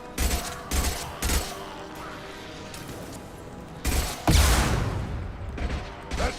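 Bursts of gunfire in the Mass Effect 2 space shooter, several loud volleys early on, then a heavy blast and a longer rattling exchange near the end.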